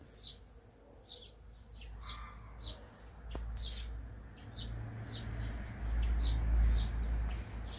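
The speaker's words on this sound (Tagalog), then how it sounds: "very relaxing talaga ang huni ng mga ibon" Birds sing in a backyard among blossoming fruit trees in Croatia, repeated bright chirps at a steady spacing over a low, rumbling outdoor background, moderately close and fairly quiet.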